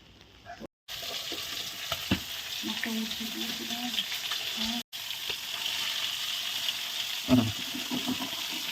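Hilsa fish frying in hot oil, giving a steady close-up sizzle with occasional stirring scrapes. The sizzle drops out briefly twice, and a louder clatter comes near the end.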